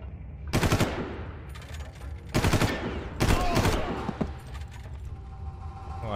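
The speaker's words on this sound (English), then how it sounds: "I thought he had a light machine gun." Light machine gun fire from the Far Cry video game comes in three loud, close bursts of rapid shots, with quieter gameplay noise filling the gaps between them.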